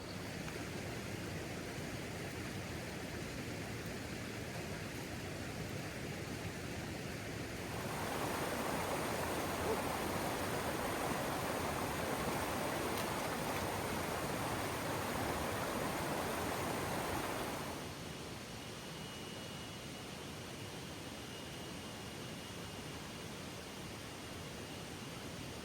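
A waterfall in a misty forest near Chiang Dao, Thailand, pours in a steady, dense rush of white water that grows noticeably louder for a stretch in the middle, then settles back.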